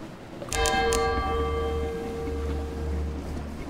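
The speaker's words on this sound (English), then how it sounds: "There's our distant bells." Distant bells toll in the dark-sea sailing game Sunless Sea, a cluster of bright ringing strikes near the start that then hang as long, slowly fading tones over a steady low ambient drone.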